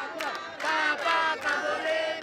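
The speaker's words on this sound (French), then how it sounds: "Un bain de foule, comme de nombreux présidents français avant lui" Crowd at Emmanuel Macron's walkabout during his Africa tour, with voices cheering and shouting together in close, continuous bursts and swells.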